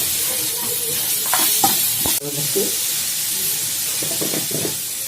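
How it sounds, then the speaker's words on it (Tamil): Grated carrot sautéing in a pan for a mixed-grain sundal, a constant loud sizzle with spoon scrapes and stirring knocks, one sharp clack midway. "அடுத்தது கேரட் துருவலை போடுறோம். ஒரு 2 நிமிஷம் வதக்கினா போதும்."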